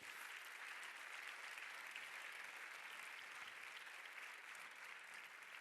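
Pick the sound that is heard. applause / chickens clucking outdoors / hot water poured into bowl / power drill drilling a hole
applause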